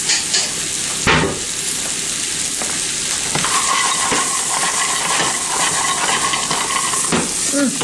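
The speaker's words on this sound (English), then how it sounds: "I want to toast the nuts." Almonds toasting in a hot pan give a continuous loud sizzle and rustle, with occasional clicks and scrapes as they are moved about.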